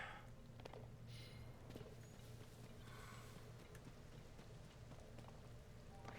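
Quiet, steady rainfall in Zelda: Tears of the Kingdom, a faint even patter over a low background hum, with a few soft taps that may be footsteps or light thuds.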